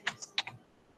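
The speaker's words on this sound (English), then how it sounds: "Simply I can go ahead and do an add label, and I can type here" A few quick computer keyboard keystrokes while a label is entered in QGIS, about four soft clicks close together, quiet and close, with no speech.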